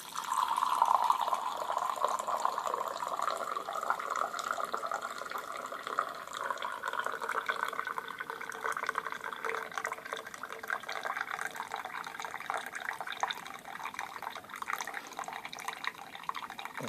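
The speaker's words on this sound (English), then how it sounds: "as I open the valve from the bottom that the coffee is coming through" Coffee drips and trickles softly and continuously through the bottom valve of an immersion dripper, a quiet steady patter close by with no voices.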